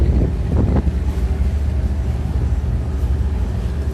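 Sand-carrying cargo ships on the Meghna river give off a steady low engine drone, with wind buffeting throughout and no voices.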